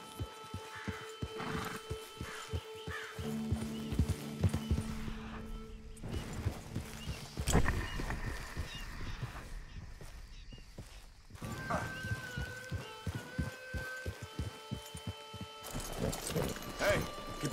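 Horse hooves clip-clop in Red Dead Redemption 2, with a horse whinnying amid game music and ambience while characters talk over it throughout.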